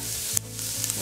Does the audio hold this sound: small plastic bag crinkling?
no